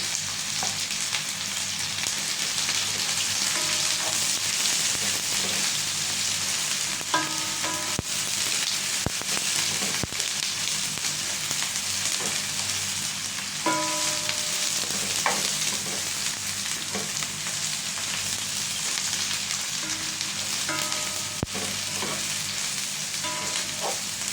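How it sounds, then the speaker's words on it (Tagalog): Tofu fries in hot cooking oil with a steady, dense sizzle that holds for the whole stretch, punctuated by a few faint clinks of a utensil. "gagamit tayo ng cooking oil. Fried tofu. Ipoprito natin ulit."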